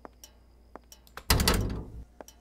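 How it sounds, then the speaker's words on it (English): A door opens in the indie horror game Skinned Alive with a loud, close creak and rumble lasting under a second, set among faint ticks and knocks in an otherwise quiet room. "I gotta open this door and then..."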